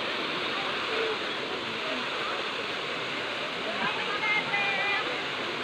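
Steady broadband rush of a flowing river, continuous and fairly loud, with a few faint voices of bathers in the background.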